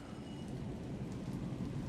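Rain falls steadily in Alan Wake 2, a soft continuous hiss with low rumbling underneath, faint and without speech.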